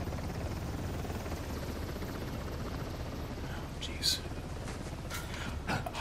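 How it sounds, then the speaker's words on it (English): Helicopter in the game Uncharted: The Lost Legacy, a steady whirring rotor drone holding through the whole stretch at moderate level, with a couple of brief sharper game sounds near the end. "I cannot let the chopper see me."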